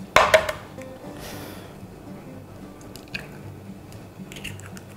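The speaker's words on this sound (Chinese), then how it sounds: "喷点油，我们煎个荷包蛋。" A single egg for a sunny-side-up fry hits a lightly oiled pan with a sharp, loud spit of sizzle. It then settles into a faint, uneven crackle with small pops.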